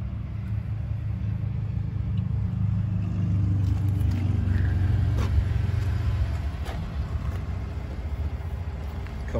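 A 2018 Ford F-150 Limited pickup engine idles with a steady, low rumble that swells slightly midway, heard close up and alone without talk.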